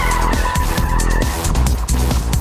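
A Porsche Boxster is driven hard through the corners of a race track, its engine roaring loud and close while the tyres squeal and scrub, with no talking.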